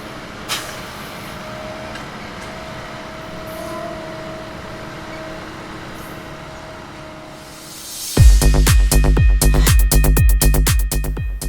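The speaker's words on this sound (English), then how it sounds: "Our final catch of the day, a South Shoreline train caps off a beautiful day of train watching in the park" A South Shore Line train passes a rail park, a quiet outdoor rumble building until a loud close pass takes over with rapid rhythmic clacking of wheels over rail joints.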